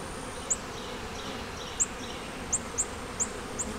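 Honey bees buzzing in an open hive during an inspection, a faint low hum with several short, sharp insect buzzes passing close at irregular moments, no voices.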